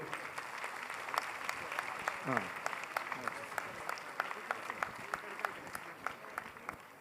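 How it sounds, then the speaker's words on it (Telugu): Audience at a Thyagaraja Aradhana music festival award ceremony clapping, sustained dense applause from a hall crowd, with a voice briefly audible over it. "ఒకసారి గట్టిగా చప్పట్లు."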